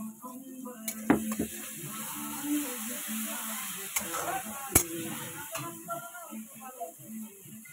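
Onion and tomato frying in a pan: a steady, close sizzle with a few sharp spatula knocks against the pan.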